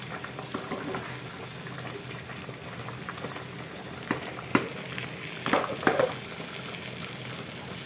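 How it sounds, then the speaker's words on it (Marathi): Chicken masala is stirred and fried in a pan, producing a steady, moderate sizzle broken by scattered scrapes and clinks of the spoon, with no speech. "आता आपण जरा परतून बघूया आपल्या काय कितपत शिजलंय ते"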